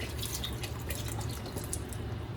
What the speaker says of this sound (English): let's go ahead and add another half of a container of veggie broth into this